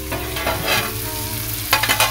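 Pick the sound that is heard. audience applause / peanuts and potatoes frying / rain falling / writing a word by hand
peanuts and potatoes frying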